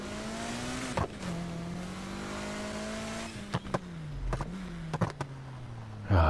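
A car drives in the racing game Need for Speed Heat, its engine holding a steady hum that rises and dips with the throttle, punctuated by sharp clicks and knocks. The sound is moderately loud and has no talk over it.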